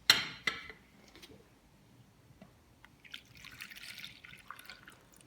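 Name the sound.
pouring milk into pot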